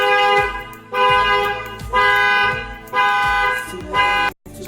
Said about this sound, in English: the alarm will actually go off before I even got a chance to open the door